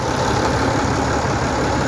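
A Sonalika 125 HP tractor with a six-cylinder engine idles at close range, a steady, loud mechanical rumble with no change in pace or pitch and no voices.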